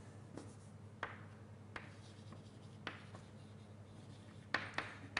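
Chalk taps and scratches against a board in a lecture hall, several sharp, separate strokes spaced irregularly over quiet room hum, with nobody speaking.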